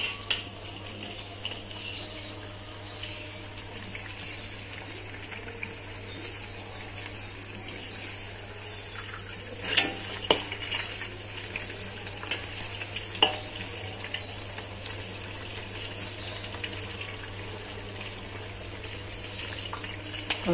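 Thin spiced flour batter fritters, Minang-style godok bada with balado, frying in oil: a steady low sizzle with occasional clinks of a utensil against the pan, moderately quiet and even.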